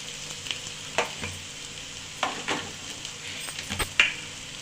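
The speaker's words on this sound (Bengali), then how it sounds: "পেঁয়াজ আর আদা রসুন ভালোভাবে ভাজা হচ্ছে" Onion, ginger and garlic frying with turmeric and other ground spices for chicken bhuna khichdi crackle in a steady close sizzle, broken by a few sharp spoon scrapes and taps against the pan.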